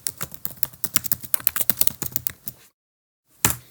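Fingers type rapidly on a computer keyboard, with a close burst of crisp key clicks, a brief pause, then one final firm keystroke.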